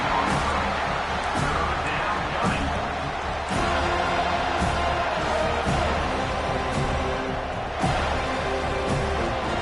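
Home crowd at a Michigan versus FSU college football game roars on third down, a sustained dense stadium wash with sharp bursts and thumps rising through it.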